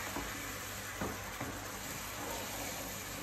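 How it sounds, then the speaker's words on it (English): Steady sizzling of a chicken pie filling in a pan as flour is stirred through it, with a few soft scraping strokes over a continuous fry, close and even throughout. "Half first, stir it through, and that will start thickening because you've got the flour in there"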